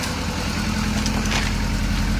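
Car engine idling, picked up close at the exhaust pipe during a pre-purchase inspection, a loud, steady low rumble with even pulsing and no speech.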